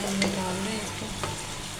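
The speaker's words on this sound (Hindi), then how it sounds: "अब हम इसके अंदर डालने लगे प्याज इसी ऑयल के अंदर।" Onions hit hot oil in a pan, used for an arbi and baingan home-style dish, giving a loud close sizzle with stirring scrapes over a brief moment, no voices.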